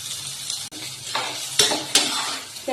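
Small chopped onions drop into a generous amount of hot oil for a chicken fry, hissing and sizzling up close with a few sharp bursts, plus light clinks of a utensil against the pan.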